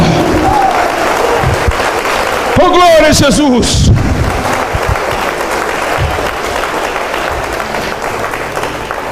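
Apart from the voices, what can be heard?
church congregation applauding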